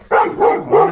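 A dog gives three quick, loud barks in close succession, close to the listener, with no talk over them, outdoors in Edmonton, Alberta.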